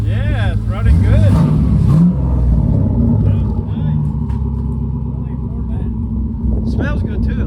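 LS V8-swapped Mazda RX-8 with a loud, rumbling engine. It blips a couple of revs at first, then settles into a deep, throbbing idle, heard close up while people talk over it.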